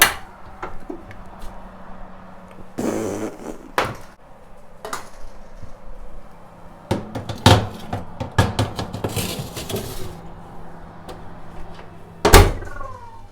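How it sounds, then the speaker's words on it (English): An oven door opens and closes while trays of lembas bread go in, heard as scattered clunks, thumps and metallic knocks of varying loudness with quiet handling noise between them. "put our bits of lembas in the oven"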